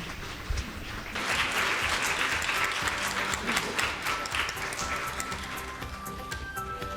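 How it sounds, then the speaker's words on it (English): Audience applause breaks out at an asset management forum in Tokyo as speakers are welcomed to the stage, a dense, steady clapping that starts abruptly after a second of quieter room sound and continues for several seconds. "Let us welcome them by a big round of applause."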